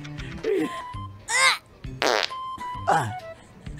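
Several brief fart sounds, some drawn out and tonal like a ringtone, in a quiet room between pauses; they may be voiced imitations.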